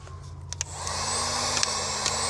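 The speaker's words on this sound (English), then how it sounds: "that heat gun's gonna melt that solder and seal the wires on each end" A heat gun blows steadily while melting a solder seal sleeve over spliced wires, a continuous airy whir that grows slightly louder midway, with a few faint clicks and taps on top.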